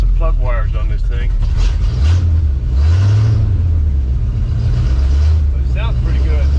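Plow truck engine running after new plug wires are fitted, a steady low rumble with slight rises in revs, close and loud, with someone talking over it.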